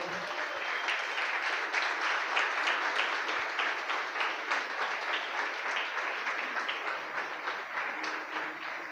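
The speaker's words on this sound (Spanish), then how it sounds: "Denle un fuerte aplauso al Señor." A congregation at a Spanish-language service in Vida Church Maturín applauds steadily, many hands clapping together for about nine seconds at moderate volume without any speech.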